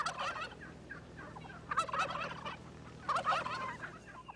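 A wild turkey gobbles in three rattling bursts, the first softer and the next two louder and fuller, with no talk over them.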